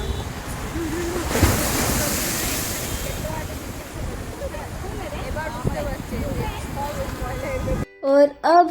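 Sea waves break and splash against the seafront at Marine Drive in Mumbai. The roar is loud and continuous, mixed with wind buffeting the microphone, and voices briefly cut in near the end.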